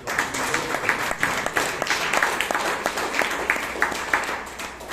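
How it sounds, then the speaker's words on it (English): A crowd at a Toastmasters club meeting in Bangalore applauds continuously, many hands clapping in an even, busy patter that tapers off slightly at the end. "Big round of applause to our table topic master."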